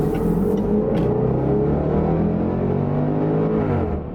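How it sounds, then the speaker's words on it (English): A 2020 Range Rover Sport SVR accelerates hard, its engine note climbing steadily in pitch with a loud, rising roar heard from inside the cabin before easing off at the end. "Get some acceleration."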